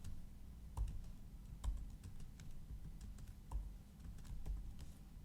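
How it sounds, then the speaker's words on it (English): Someone types on a computer keyboard, a close, quiet run of irregular key clicks with a few louder taps, over low room hum and no talking. "that one I will type the following"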